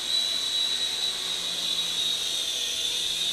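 A JunHeng J283 RC gunship helicopter flies backwards at high throttle, giving off a steady, high-pitched electric motor whine over a constant airy hiss for the whole stretch, with no voices.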